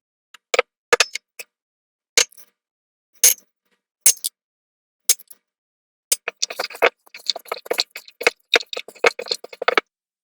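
Ground beef, seasoning and diced onion get mixed in a bowl, giving soft sticky squishes and clicks in scattered bursts that grow denser and busier toward the end, close by with no talking.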